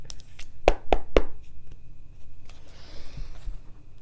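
Three sharp knuckle knocks land in quick succession on a tarot card deck, close and crisp, followed by soft shuffling and handling of the cards.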